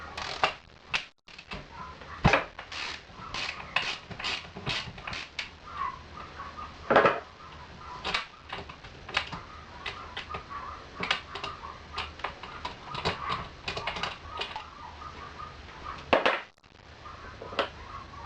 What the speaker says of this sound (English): we're going to take a 3/4 spark plug socket and a 3/8 ratchet. We're going to remove the spark plug.